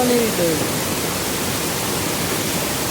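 Floodwater of a swollen Konkan river rushes in a dense, constant roar, loud and near, with a brief faint voice at the very start.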